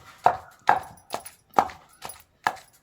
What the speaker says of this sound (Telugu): ఉల్లిపాయని మెత్తగా కచ్చా బిచ్చాక నూరండి